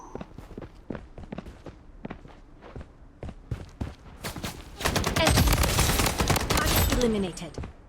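Gunfire in the shooter game Blood Strike: quick footsteps and scattered shots give way to a sustained, loud burst of rapid automatic fire lasting a few seconds, with a voice speaking under part of it.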